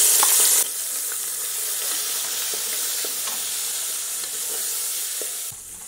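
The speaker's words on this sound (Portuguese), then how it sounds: "Não vou precisar de óleo, porque já tem bastante tocinho. Aqui mesmo eu vou fritar a carne." Meat fries in rendered bacon fat in a pan with no added oil, giving a loud, steady close-up sizzle that runs without a break from start to finish.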